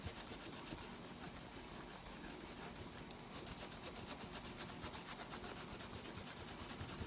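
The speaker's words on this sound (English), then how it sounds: "This one is actually scrubbing some of the color off of the picture" A tag is scrubbed by hand with Nevr Dull polish wadding. Faint, steady, close rubbing strokes repeat in an even rhythm with no voices.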